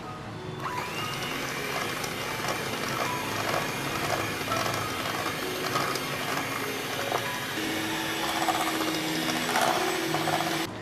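An electric beater whips chocolate fudge frosting with added whipping cream, a loud, continuous mechanical whirring with rattling that keeps up without pause.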